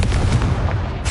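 A Confringo spell blast in the Hogwarts Legacy video game lands as a short, loud, booming explosive burst with a rumbling crackle, heard alone.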